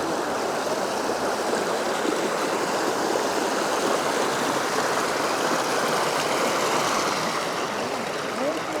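River water rushes steadily and close at a rocky river crossing on the trail to Mt. Pinatubo, a dense continuous flowing wash with no breaks throughout.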